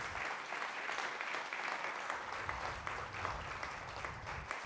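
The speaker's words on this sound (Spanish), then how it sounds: "Dele un aplauso fuerte al Señor." A congregation applauding loudly during a church service, a dense, steady wash of many hands clapping together without pause, heard from within the room with no clear speech.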